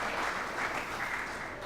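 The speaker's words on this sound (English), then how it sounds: "Please, audience, help me to give him special and warm applause." An audience at an English language forum applauds, steady dense clapping from many hands, fairly loud and continuous, with no talking.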